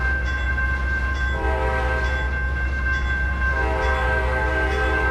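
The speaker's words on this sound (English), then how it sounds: "There's an automatic whistle there." Automatic train whistle in the Trainz 2022 simulator sounds as a sustained steady tone over a continuous rumbling train bed, with a second whistle blast rising partway through and holding to the end.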